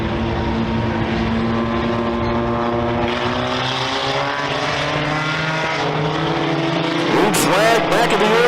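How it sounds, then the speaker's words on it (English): Several 4-cylinder division race cars roar around the Merrittville Speedway oval during a B feature, engine notes steady and loud with pitch sweeps as cars pass, a commentator talking over the racing throughout. "We are racing once again here in the B feature of the 4-cylinder division."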